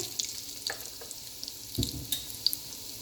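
Garlic and curry powder fry in a pot for Jamaican-style curry mutton, giving a faint, steady sizzle with a few soft clinks and stirring scrapes, with no talking.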